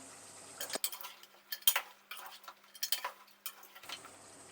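A spoon scrapes and clinks against a pot while mutton and drumstick curry is stirred, a run of irregular metallic taps and scrapes, close and fairly quiet, with no talking.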